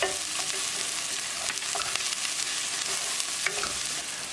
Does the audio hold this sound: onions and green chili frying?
yes